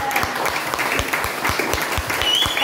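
A church congregation applauds and cheers for the Lord, dense rhythmic clapping with some unison beats, loud and full, with cheering voices mixed into the crowd.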